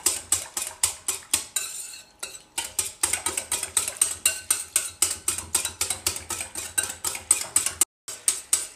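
A whisk beats raita yogurt seasoned with salt and pepper in a bowl, fast rhythmic clinking strokes against the bowl repeating steadily, close and loud, with a couple of brief pauses.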